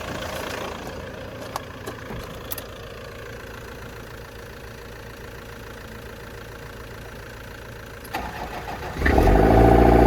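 A Nissan TD27 diesel engine with a Bosch VE injection pump, running on a jump-started battery, gives a steady mechanical drone that suddenly swells into a loud, rough diesel roar near the end, with no voices.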